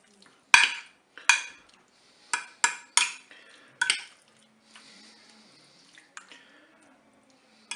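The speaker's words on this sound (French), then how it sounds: "on va mélanger délicatement" Eggs and crème fraîche gently stirred through a cauliflower flan in a dish, a handful of soft utensil scrapes and taps against the dish in a loose rhythm, close and clear, with quieter gaps between.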